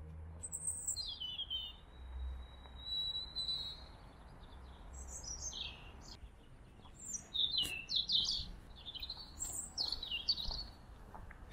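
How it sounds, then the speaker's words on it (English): Songbirds sing in a park early in the morning, with scattered chirps, whistles and quick trills at moderate distance over a low, steady background rumble. "Seems to be the same songbirds all up early and singing to each other."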